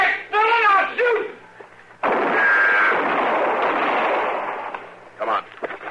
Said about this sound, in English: Dillon, I'll shoot.